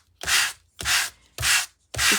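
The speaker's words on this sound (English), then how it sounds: "This is just a block of sandpaper, and as I sand over the top," A sandpaper block is rubbed across textured card with a white core, making four rhythmic rasping strokes with short pauses between them, close and fairly loud.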